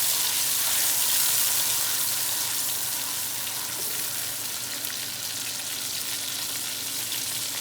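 Ground onion paste and masala sizzle steadily in hot oil in a karahi for chicken karahi, a continuous close frying hiss that holds even throughout with no talking.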